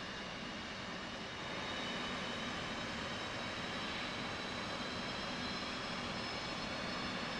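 F/A-18C jet engine spooling up during start-up in a flight simulator, a steady broadband roar that holds at a constant loud level with no speech.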